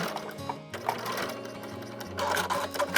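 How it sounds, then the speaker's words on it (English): A sewing machine runs a regular straight seam joining fabric ends for a wide-strap tank top, its steady mechanical whir rising and falling in short bursts as the stitching stops and restarts, close by and with no talking. "stitch them together with a regular straight stitch at 7mm or a 1/4 inch"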